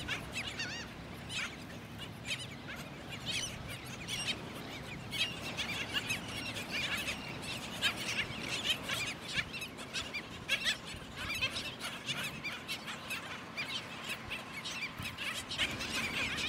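A black skimmer breeding colony on a Florida beach at Lido fills the air with a constant chorus of sharp, yelping squeals and barking calls, many birds overlapping at varied distances.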